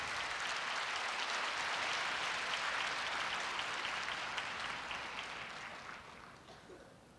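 A large audience of incoming freshmen at a Korea University welcoming ceremony claps in a broad, full round of applause that gradually tapers off toward the end.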